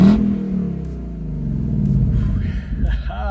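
A Ford Mustang GT with active exhaust revs up close, a deep loud rumbling roar that dips and rises again, a voice talking briefly near the end.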